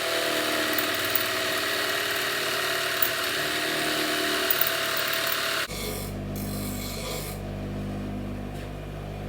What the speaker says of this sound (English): I've cut it out in the wood, and I'll just jigsaw that out